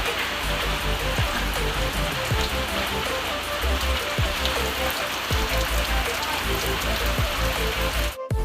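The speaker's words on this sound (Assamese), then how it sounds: "একদম বাহিৰত পূৰা বৰষুণ দি আছে" Heavy rain falls steadily outside a house, a loud, dense, continuous hiss of drops on surfaces with occasional heavier splats, going on without a break.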